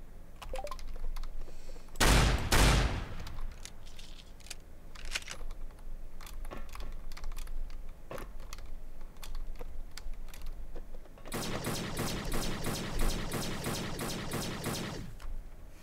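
Ceiling turret firing in the game Fallout Equestria Remains: one short, loud burst of shots early on, then a sustained rapid volley of sharp, evenly spaced reports near the end over low background game noise.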